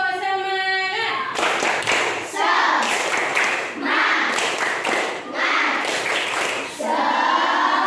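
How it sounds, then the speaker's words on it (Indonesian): A classroom of young pupils performs a rhythmic cheering clap chant with their teacher, loud close group handclaps in short bursts with brief pauses, mixed with children's voices chanting along. "Tepuk semangat."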